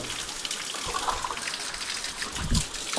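Water flows over ground in a steady, rushing wash of noise with small splashes and gurgles. It sounds moderately close and continues without speech.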